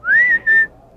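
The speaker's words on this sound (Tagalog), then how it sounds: "Eto, sipol." A person whistles two clear, close notes in quick succession, the first sliding upward and holding, the second shorter and level, with no talk.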